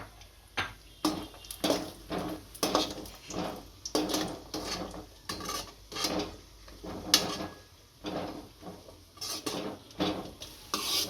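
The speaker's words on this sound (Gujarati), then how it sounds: "આની અંદર હવે આપણે કાજુ નાખીશું અને શેકી લઈશું આપણે" Cashews roasting in a pan for a dhaba-style kaju masala, stirred in a steady rhythm of scraping spoon strokes with a faint sizzle and light metallic clinks, close and continuous with no talking.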